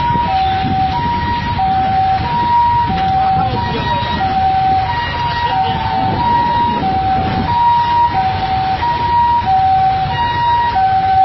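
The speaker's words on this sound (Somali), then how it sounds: "waxa maqlaysaan waxa waaye waa ambulance" Ambulance siren on a congested Mogadishu street, its two-tone wail cycling steadily and loudly over heavy traffic rumble throughout, with faint voices mixed in.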